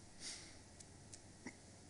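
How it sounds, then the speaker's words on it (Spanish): A priest with hiccups during a Catholic Mass in a parish church gives a single soft, sharp hiccup in a quiet room, with faint room noise around it. "Hoy tengo hipo, así que estoy con hic."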